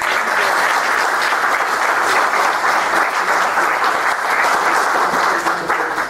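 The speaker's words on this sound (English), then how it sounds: "Could you give them a round of applause?" Steady, full applause from a conference audience thanking a consumer advocacy panel, a thick continuous wash of clapping from many hands with almost no voices.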